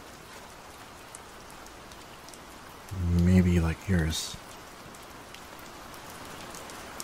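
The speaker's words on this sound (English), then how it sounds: "It's really starting to rain harder." Steady rain patters on a surface throughout, a dense close hiss of drops that holds under a man's brief spoken line midway.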